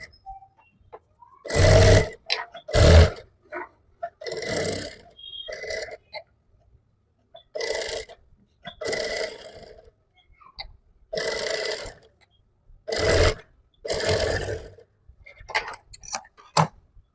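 A sewing machine stitches the edge of a fabric strip for a gathered sleeve, running in several separate bursts of rapid mechanical whirring. Short pauses fall between the bursts, and the sound is close and fairly loud with no talk.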